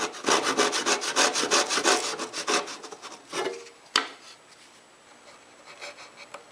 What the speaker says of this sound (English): So I've turned to my trusty back saw to finish up the cut.